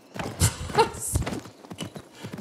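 Horse hooves clip-clopping with a brief whinny in the video game Assassin's Creed Mirage, a few close, uneven steps under light game sounds and a voice speaking.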